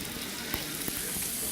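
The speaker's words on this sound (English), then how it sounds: "So we're waiting for the sizzle" Food sizzling in a hot pan, a continuous close hiss and crackle with a couple of sharper pops, heard alone in a short burst.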